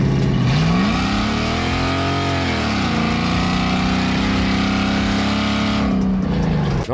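A Toyota 4.7-liter V8 with straight pipes revs up loudly and holds a raspy, rumbling roar, pitch rising and dipping, then drops off sharply at the end.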